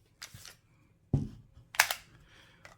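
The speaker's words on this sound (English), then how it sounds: "Quick test, dry fire." Tokyo Marui Samurai Edge Hi Grade airsoft pistol dry fired after reassembly: a few sharp, close mechanical clacks of the slide and hammer, with quiet pauses between.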